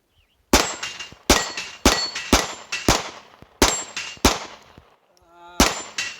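A compact Glock 19 9mm fires about ten sharp shots at a range, each crack followed by a ringing clang from steel plates, arriving in quick irregular bursts with a short pause before the last shots.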